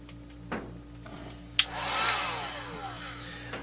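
A heat gun clicks on and blows a steady rush of hot air close by, after an earlier soft thump, with the airflow staying loud and continuous to the end.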